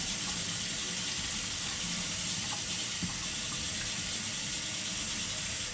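Tap water runs steadily into a sink, a constant close splashing hiss with a few faint clinks.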